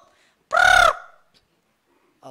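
A voice imitates a chicken or rooster with a single short, loud, strained crowing cry in a church service setting, followed by quiet.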